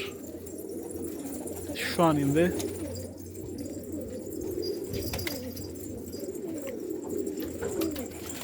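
Sarı macar pigeons coo in soft, repeated low calls close by, one louder rolling coo standing out early, while someone speaks briefly over the birds.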